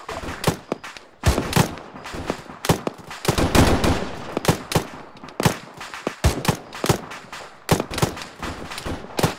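Suppressing gunfire in the Arma 3 military video game: a dense, continuous stretch of loud automatic bursts and single shots, sharp and overlapping, with no voices.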